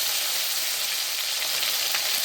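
Chopped tomatoes fry in hot oil seasoned with bay leaf and cumin for a vegetarian soybean and potato curry, producing a loud, dense, continuous close-up sizzle with no pauses and no voices.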